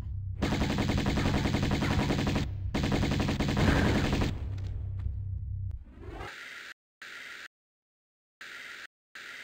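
Rapid gunfire from the Tomb Raider I Remastered video game, dense and loud for several seconds, then sputtering off into broken, fading game sounds with gaps of silence.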